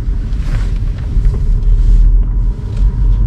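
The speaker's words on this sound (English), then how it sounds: "let's go for our first drive without the exhaust" Car with its straight-piped exhaust removed drives along, giving a loud, steady low rumble of road and engine noise with wind buffeting and no speech.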